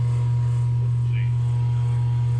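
A CNC machine's chip fan runs with a constant, loud low mains-like hum and faint steady background whir, unchanging throughout.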